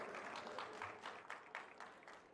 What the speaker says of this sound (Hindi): एक बार जोरदार तालियों से आइए, स्वागत।